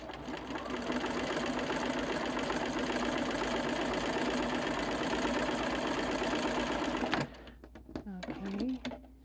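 A sewing machine runs steadily for about seven seconds, stitching fabric triangles for half-square quilt blocks, then stops and a voice talks briefly.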